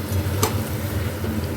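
Curry sautéing in a pan that is covered between stirs, giving a close, steady hissing sizzle with one brief scrape of the spoon.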